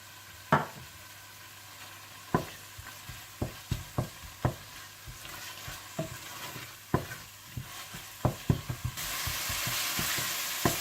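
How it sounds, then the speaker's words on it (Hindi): Julienned ginger stirred into sautéed masala in a pan for dal makhani: a steady low sizzle broken by a dozen sharp spoon scrapes and knocks at uneven intervals, the frying hiss swelling louder near the end. "जब मसाला अच्छा सा भुन जाए तो आप इसमें जूलियन कटी हुई अदरक डालकर अच्छी तरह से मिला लें"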